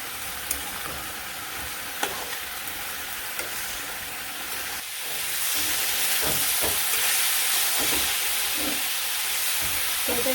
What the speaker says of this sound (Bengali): সবজিটা ভালো করে একটু ভাজি ভাজি করে নেবো